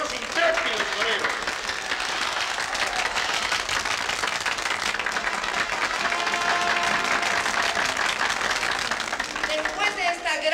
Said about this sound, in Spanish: aplauso fuerte para premiar a estos dos intrépidos toreros.